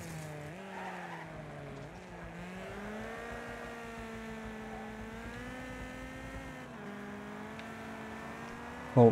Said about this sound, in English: Well, engine sounds have somewhat come back,